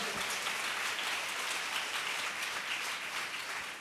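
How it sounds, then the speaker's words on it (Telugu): A church congregation at a Hosanna Sunday service clapping together in praise, a dense, continuous roar of applause from many hands that stays steady throughout. "విశ్వసించిన వాళ్ళు చప్పట్లు కొట్టి ప్రభుని స్తుతించండి కొంచెం గట్టిగా."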